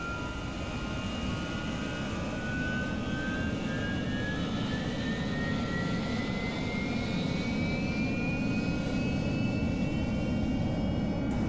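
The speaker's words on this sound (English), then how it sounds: "the engine will continue spooling up until it reaches its normal idle running RPM" AV-8B Harrier jet engine spooling up toward idle in DCS World, a steady loud turbine roar with a high whine rising slowly in pitch, continuous and close, with no voices.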